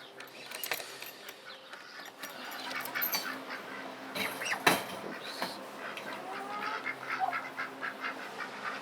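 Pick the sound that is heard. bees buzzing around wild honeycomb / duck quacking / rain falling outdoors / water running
duck quacking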